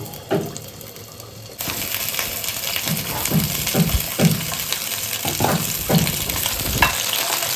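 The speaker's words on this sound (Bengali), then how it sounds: "তেল দিয়েছি এবার পটলগুলোকে ভেজে নেবো" Pointed gourd pieces hitting hot oil in a pan for a prawn and coconut milk dish: a quiet start, then a loud, steady sizzle with repeated scraping stirs and clinks.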